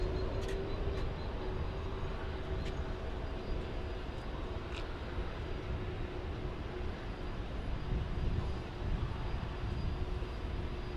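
An MD-11 airliner taxiing at DFW airport produces a steady, broad engine roar with a faint tonal whine, constant and moderately distant throughout, with no speech.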